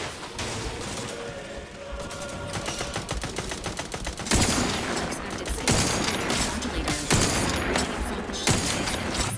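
Gunfire in the video game The Outer Worlds 2: dense volleys of sharp, loud shots in rapid bursts, growing heavier and more forceful partway through and continuing to the end.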